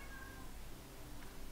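A domestic cat meows faintly in the background, one drawn-out cry early on and a brief fainter chirp later, over a low steady room hum with no talking.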